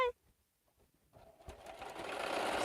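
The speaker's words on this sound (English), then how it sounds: "Sewing it up." A sewing machine stitches quilt fabric, starting up after a brief quiet pause and building into a steady, close mechanical whir that grows louder to the end.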